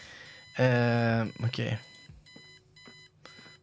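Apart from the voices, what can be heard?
alarm clock ringing in the video game Kathy Rain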